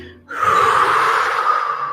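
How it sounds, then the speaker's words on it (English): A person exhales forcefully and steadily through the mouth during a guided breathing exercise. It is one long, close, breathy rush of air lasting under two seconds, with no talking. "Breathe out"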